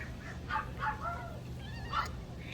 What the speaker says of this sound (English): And my dogs are already crazy.